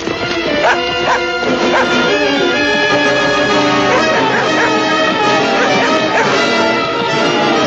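A raging dog barks and yips in a cartoon scene alongside a skittish horse and a struggling lamb, the loud barks mixed into a busy orchestral score.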